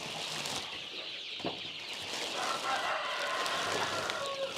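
Tiger breed chicks in a poultry shed give faint, scattered high cheeps and clucks over a constant hiss of background noise, with a few soft knocks and no one speaking.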